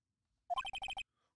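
A phone in the Phoenix Wright: Ace Attorney Trilogy game gives a short, crisp electronic ringtone, a quick rising figure followed by a rapid run of evenly spaced beeps, brief and isolated against silence.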